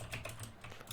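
Quick clicking keystrokes on a computer keyboard while game logic is entered in the Unity Playmaker editor, a close steady patter of taps without speech.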